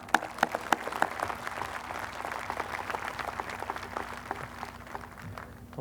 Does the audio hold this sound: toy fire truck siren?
no